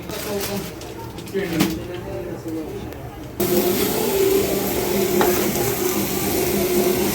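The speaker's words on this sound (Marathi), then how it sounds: "गूळ टाकायचा आणि थोडं गरम करायचं परतून घ्यायचं" Jaggery filling for ukadiche modak sautéing in a pan, with a steady soft sizzle and stirring that grows louder and brighter partway through, while people talk in the background.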